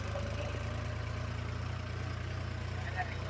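A small mini farm tractor's engine runs steadily nearby with a low, even drone and no change in pace.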